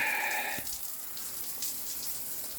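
Water from a tap on a homemade hot water system, running steadily as a broadband hiss that starts loud and eases slightly after a brief change, with no talking.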